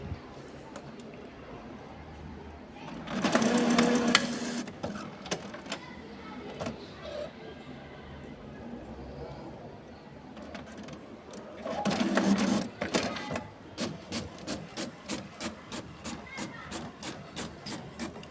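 An HP Smart Tank 510-series inkjet printer runs through its print cycle: two louder bursts of mechanical whirring and feeding, then a rapid series of rhythmic clicks and ticks, with occasional speech nearby.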